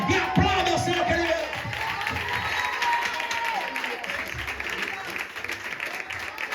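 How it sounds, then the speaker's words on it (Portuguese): Church congregation applauding during a family worship service, loud sustained clapping from a crowd with scattered shouts and whoops, a voice calling out over the start before the applause carries on evenly and tapers slightly at the end. "E aplauda o Senhor, querido."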